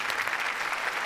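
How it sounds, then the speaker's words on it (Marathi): Brief burst of audience applause at a comedy show, dense even clapping from a crowd, moderately loud and steady. "सगळ्यांसाठी जोरदार टाळ्या"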